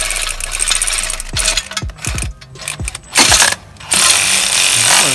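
Loosening factory header bolts under a 2015-2017 GT car engine brings bursts of pneumatic or power-tool rattling with metallic clinks and brief pauses, loud and close.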